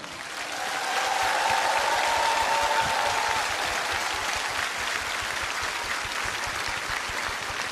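Warm audience applause at a Warsaw Uprising 75th anniversary singing concert in Warsaw, a dense crowd clapping that swells within the first second and holds steady and loud throughout.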